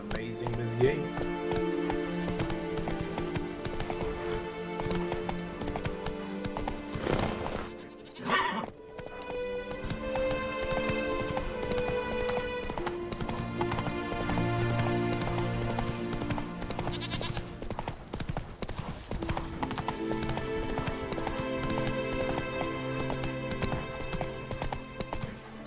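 Roach the horse in The Witcher 3 game gallops with rhythmic hoofbeats and neighing, mixed under background game music and ambience, with a short lull midway.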